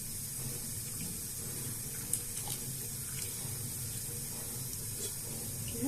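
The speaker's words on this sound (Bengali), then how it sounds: "দিয়ে দিচ্ছি গরম জল" Hot water poured into a vegetarian double-bean seed curry, a steady continuous splashing pour that runs the whole time at moderate level with no voices.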